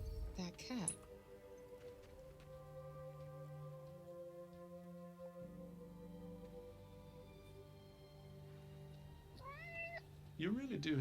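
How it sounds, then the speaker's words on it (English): A cat in the video game Forspoken meows near the start and again near the end, short rising cries set against steady ambient game sound. "Hello, kitty. Hey, that cat."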